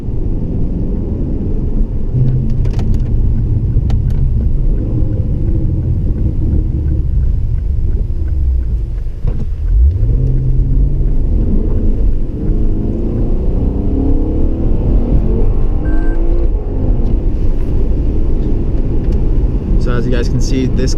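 Lexus RC F engine driving on wet roads in rain, a steady loud low rumble with rising and falling revs throughout, with speech-like sounds over it.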